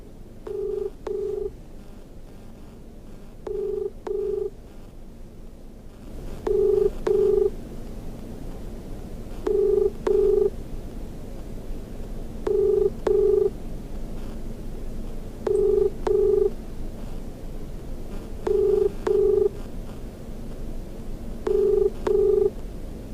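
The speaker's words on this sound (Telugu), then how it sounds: "కాల్ చేస్తున్నాను" A phone call being placed: a short burst of keypad dialing tones, then a regular ringback tone pulsing in evenly spaced double beeps over a faint steady hum, with no answer and no talking.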